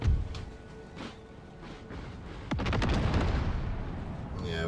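Artillery fire in the video game Empire 2 Total War: mortar blasts boom out as a couple of isolated thumps early on, then a heavy cluster of explosions rolls in midway and keeps rumbling loudly to the end.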